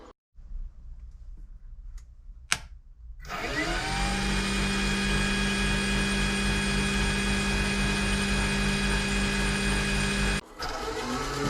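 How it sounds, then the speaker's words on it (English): A wood lathe in a cold shop hesitates with a few clicks and thumps, then spins up to a loud, steady motor whine that holds at speed before a brief cut and restart. "It's so cold that my lathe doesn't want to turn on."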